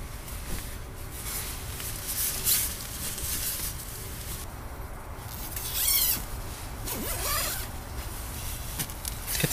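Sleeping bag zippers are worked together during a hot tent overnight, giving rasping, scratchy pulls in short bursts over steady low rumbling background, close and moderately loud, with no talking.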